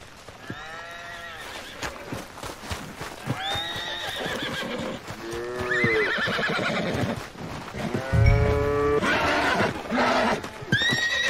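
A horse in the Red Dead Redemption 2 video game whinnies and neighs repeatedly, loud and close, with hooves clip-clopping and shifting underneath across the stretch.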